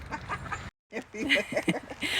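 Farm chickens cluck in a short burst of busy, close calls, broken by a brief silence before more clucking resumes, with some voices mixed in.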